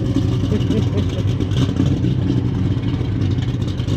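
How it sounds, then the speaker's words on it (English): A loud 1970s Pontiac Trans Am engine rumbles steadily and close by at a Trans Am nationals gathering, with people talking over it. "Yeah, that's a loud car already."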